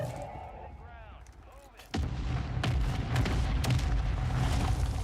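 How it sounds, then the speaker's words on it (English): Mortar strike explosions in a shooter video game arrive as a sudden loud boom, then a sustained rumbling barrage of blasts and crackle. Faint voices and game sounds come before the impact. "Running right into a mortar strike is probably a bad idea."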